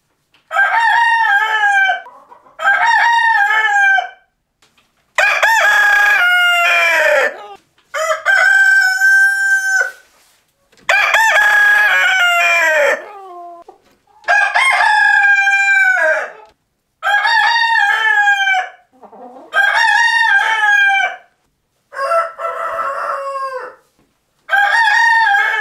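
A rooster on a farm crows loudly and up close in cold air, about nine long cock-a-doodle-doo calls in steady succession with short silent gaps between them, and no talking.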